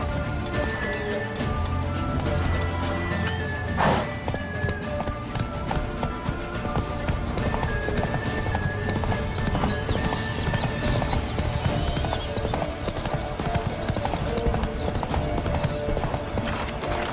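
Hooves clip-clop steadily as a horse gallops in the video game The Witcher 3: Wild Hunt, with an occasional whinny over a dense game soundscape.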